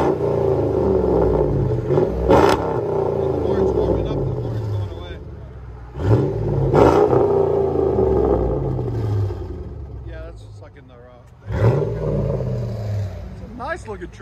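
2005 RAM 1500 pickup with a 5.7L HEMI V8 and Black Widow Widow Maker exhaust, revving in several loud bursts that rise and fall over a steady deep idle rumble, close by.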